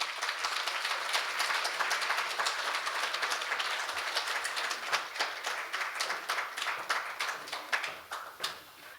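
Audience applause at a law school anniversary ceremony welcoming a soprano soloist, dense steady clapping from a large hall crowd that thins into scattered claps toward the end.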